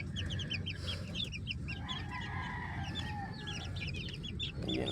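Young chicks in their new, larger cage make a busy mix of high peeping and soft clucks over a constant low rustling hum, close and continuous throughout.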